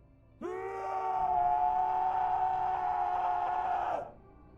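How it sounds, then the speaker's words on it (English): A long, high-pitched, blood-curdling scream from an animated horror story, rising sharply and holding loud and steady for several seconds before cutting off. "It was a blood-curdling scream, unlike anything I have ever heard."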